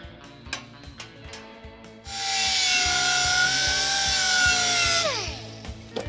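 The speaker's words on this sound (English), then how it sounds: "Carefully cut it out of your panel, because you don't want to ruin the surrounding metal" A power tool whines loudly for a few seconds as it cuts a metal patch panel for a truck cab repair, its pitch sliding down at the end, between lighter scraping and tapping sounds.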